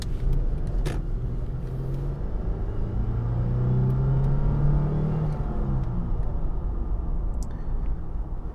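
A 2010 Lexus IS 250 with about 200,000 miles driving on the road, heard from inside as a steady engine rumble and tire drone with a gentle rise in pitch as it accelerates, moderate and continuous.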